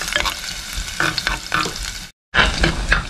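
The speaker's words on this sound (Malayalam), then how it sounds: "ഇഞ്ചിയും വെളുത്തുള്ളിൻ്റെയും ഒരു പച്ച മണം ഒന്ന് പോകാൻ വേണ്ടിയിട്ട് ഒന്ന് അതുവരെ നമ്മളൊന്ന് വഴറ്റിയെടുക്കണം" Ginger and garlic sautéing in a clay pot give a steady close sizzle with scraping stir strokes, broken by a brief silent gap before the frying resumes.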